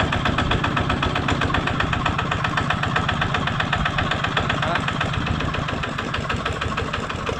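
A Kubota 14-horsepower diesel engine idles steadily throughout, a loud, close, even low chugging rhythm with no talk over it.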